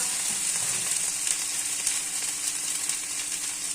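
Ginger-cumin paste sizzling in hot oil in a pan while katla fish kaliya is cooked, a dense steady hiss close up with faint stirring scrapes underneath.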